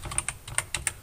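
Quick keystrokes on a computer keyboard while entering a label in AutoCAD, a close, crisp run of about six taps with short uneven gaps, no talking.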